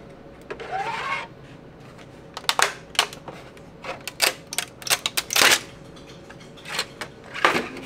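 A 3D printer printing prototype parts, making irregular clicks, taps and short motor whirs in quick clusters, close up and fairly crisp, with no talking.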